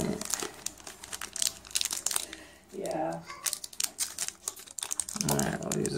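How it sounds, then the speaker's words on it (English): Crisp crinkling and crackling of a foil trading card pack wrapper being handled in short bursts, with brief muffled thuds between. "we'll use the scissors because I'm not trying to deal with this pack. It's not opening."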